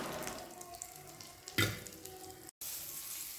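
Curry leaves fry in a pan with a steady soft sizzle and a brief louder crackle partway through, followed by a short cut, close and moderately quiet with no voices.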